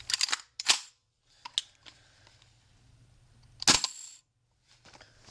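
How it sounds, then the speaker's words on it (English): A KWA LM4 airsoft rifle fires on semi-automatic: two sharp, loud snapping shots close by, separated by quieter mechanical clicks of charging the weapon, with no talk. "here's the first shot on semi-automatic."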